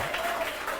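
A short burst of students clapping in a physics classroom lesson, a diffuse, steady patter of many hands for under a second.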